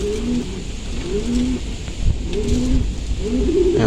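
Racing pigeons coo in repeated, rhythmic rolling phrases, close and clear, during a training flight from Lucena to Silang, Cavite, with a soft noisy background.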